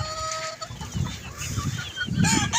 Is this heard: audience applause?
no